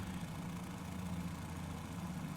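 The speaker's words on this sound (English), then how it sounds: "what at first sounded like a fairly realistic low RPM, the slapping prop sound of these lower power engines" Low-RPM propeller engine of a Fokker F.VII triplane in Microsoft Flight Simulator 2020, a steady droning idle with a low throb and soft slapping prop beat, continuous and fairly close with no talk.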